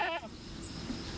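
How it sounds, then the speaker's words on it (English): A goat gives one short, nasal, wavering bleat close by at the very start, followed by faint background noise. "That's a goat."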